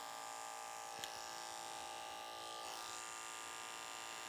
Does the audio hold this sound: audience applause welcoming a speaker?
no